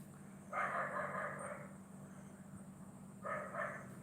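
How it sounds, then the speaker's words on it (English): A dog barks in two separated bursts, each a short run of barks, against a constant low hum, somewhat far off. "Sorry about that dog barking."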